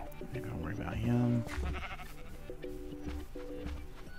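Sheep in Minecraft bleat several times in game voices, with one loud, long bleat near the middle, over steady game background sounds.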